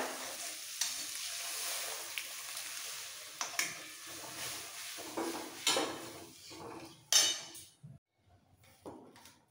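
Boiled chana dal is stirred into spices frying in a pan: a low sizzle with intermittent scraping and clinks of a utensil against the pan, quiet and close, trailing into near silence at the end.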